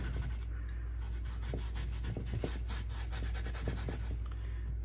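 Oil-soaked rag rubbed over a wooden kitchen riser, quiet repeated back-and-forth scrubbing strokes with soft scratchy swishes, close and faint.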